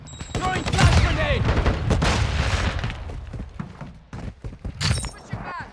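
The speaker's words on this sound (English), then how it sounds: "Throwing flash grenade!" A flash grenade goes off amid a Call of Duty: Modern Warfare II firefight, with a dense burst of blasts, gunfire and shattering crackle, followed by scattered shots and sharp sweeping tones as the noise thins out.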